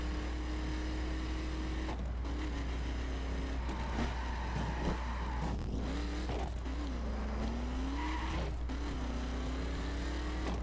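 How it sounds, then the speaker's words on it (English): A Chevy Chevelle SS Dragster racing in a video game, its engine droning and revving with rising and falling pitch through gear changes, steady and moderately loud under a constant low hum. "The Chevy Chevelle SS Dragster."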